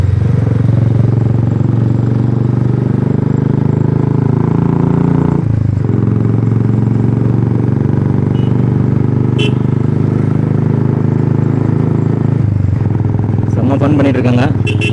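Royal Enfield motorcycle climbing a hill-station road toward Yercaud, its steady engine drone loud and continuous, with a brief dip midway and voices in the background near the end.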